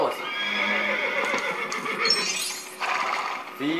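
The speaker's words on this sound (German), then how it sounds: "Ja, das ist das Pferd." A horse in the LEGO Indiana Jones video game lets out a long, loud whinny, followed by a shorter second neigh near the end amid game sounds.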